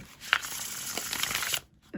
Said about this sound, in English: These are a fantastic shuffle